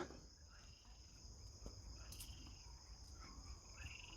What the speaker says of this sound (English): Listen to the frogs. Those are horny desert frogs trying to get it in.